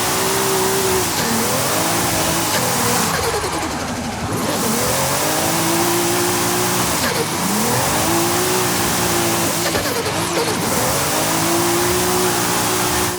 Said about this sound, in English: this car sounds fantastic with the turbo flutter.